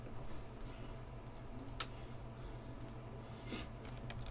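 Computer keyboard key presses, a couple of soft isolated clicks over a quiet room hum, with no talking.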